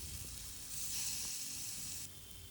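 Paneer cubes coated in thecha chutney frying in moderately hot oil in a pan make a steady, bright sizzle that swells louder for about a second before easing back to a gentler hiss.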